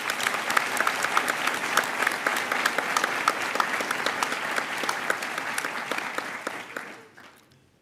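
An audience at a university graduation ceremony applauds, dense and sustained clapping from a large crowd that holds steady for several seconds, then fades out quickly at the end.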